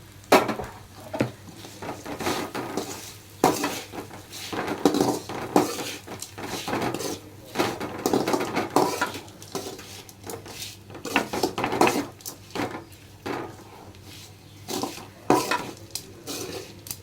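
Finger millet (kelvaragu) vermicelli is tipped into a pan and stirred, giving repeated close scraping and clattering strokes against the metal with a light sizzle underneath, steady for the whole stretch and without voices.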